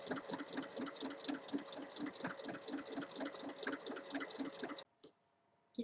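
A sewing machine stitches along the full length of a fabric tote bag strip, a close, rapid, steady mechanical thumping that stops near the end, leaving brief quiet.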